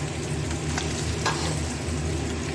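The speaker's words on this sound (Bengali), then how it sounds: "আর এদিকে মাছ ভাজা হয়ে যাচ্ছে" Katla fish pieces fry in hot oil for a yogurt fish curry, giving a steady, close, dense sizzle that holds evenly throughout with no talking.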